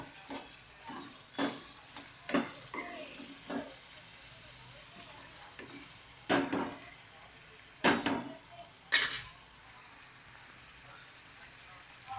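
Tomato and onion sizzle steadily in hot oil in a pan, with several louder stirring scrapes and clinks at irregular intervals over the low frying hiss.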